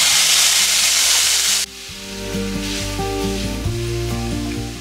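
A pound of lean ground beef sizzles loudly in a hot pan, a steady bright frying hiss that drops slightly partway through as clattering stirring and scraping sounds join in, close to the listener.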